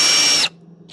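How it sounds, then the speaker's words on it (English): A power drill whines loudly for about half a second and then cuts out abruptly, leaving a faint low hum. "Now let's go back to drilling."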